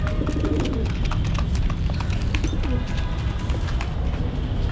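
A male pigeon coos repeatedly in a loud, close, low rolling rhythm, with faint chirps from other birds around and no talk.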